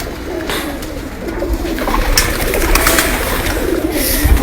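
Pigeons coo on a rooftop in Rawalpindi, soft repeated throaty calls close by over a busy background of rustling and scattered clatter, with no talk heard.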